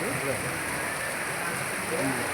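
Rain falling steadily in the hills, a soft continuous hiss of drops that holds evenly from start to finish.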